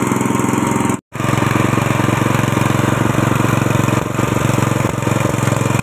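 A petrol-engined mini tiller (hand tractor) runs loudly and steadily nearby, a rattling buzz that drops out for an instant before resuming at full strength.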